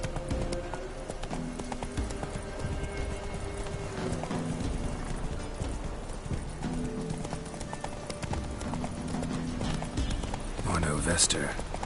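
Horses in a PS4 video game, hooves clip-clopping in a steady galloping rhythm with a neigh near the end, under game music and a speaking voice throughout.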